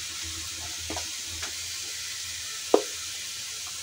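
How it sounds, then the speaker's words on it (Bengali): Onion frying with ground ginger, cumin, turmeric and chili in a pan, a dense steady sizzle close by with a few soft stirring knocks and one sharper clink, no speech. "এই তো আমার পেঁয়াজটা ভাজা হয়ে গেছে, এবারে এই মশলাগুলো দিয়ে দেবো।"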